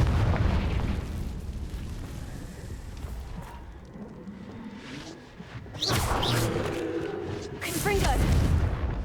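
Repeated Confringo fire-spell blasts in the video game Hogwarts Legacy, loud booming bursts over a dense game soundtrack, with a strong pair of impacts near the end.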